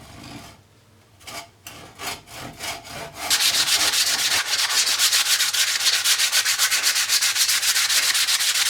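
Wood for doll's house stairs is sanded by hand, a few slow scraping strokes giving way to loud, rapid, steady back-and-forth rasping close by.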